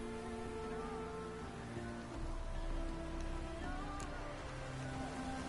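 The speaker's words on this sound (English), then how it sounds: "Looks like rain." Steady rain hisses through a Witcher 3 game scene, a constant broadband wash with tonal music and ambient hum layered underneath, no voices during the stretch.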